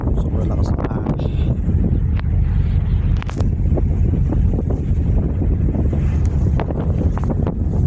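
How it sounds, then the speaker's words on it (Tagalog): Strong wind buffets the microphone on a ship's deck at night, crossing from Caticlan to Batangas, with steady roaring gusts and a low rumble of the vessel throughout, loud and continuous. "Sobrang lakas ng hangin."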